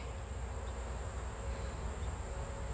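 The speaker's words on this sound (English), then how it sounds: "Look at these bees." Honey bees at an open beehive make a dense, steady buzzing hum that stays constant throughout, faint overall with no voices over it.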